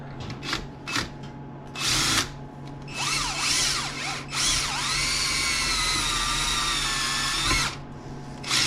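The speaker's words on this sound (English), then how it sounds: "We're going to drill some holes." A power drill whirs in short bursts, then runs steadily with a rising, whining pitch as the bit bores through metal on a 1979 Pontiac Firebird build, loud and close.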